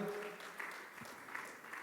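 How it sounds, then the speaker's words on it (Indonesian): Steady applause from a church congregation during a worship service, a continuous wash of clapping with a faint voice or two underneath. "Mari beri tepuk tangan yang dahsyat bagi Tuhan kita."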